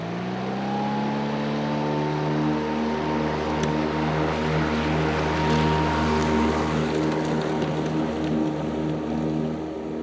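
A Toro 60V Flex Force battery lawn mower runs with a smooth, steady electric whine and layered tonal hum, its pitch rising briefly at the start then holding constant and fairly loud throughout.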